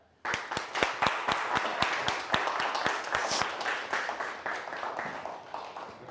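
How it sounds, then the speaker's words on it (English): An audience claps in a live event hall, a burst of many hands starting sharply and continuing as sustained applause with distinct loud individual claps over a dense patter, fading slightly toward the end. "Can we clap it up?"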